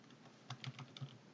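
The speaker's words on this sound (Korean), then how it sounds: "키보드에 F2 누르면 이렇게 편집돼요." Several light clicks of computer keys being pressed, including F2, while editing an Excel spreadsheet, quiet and close with an irregular rhythm and no talk.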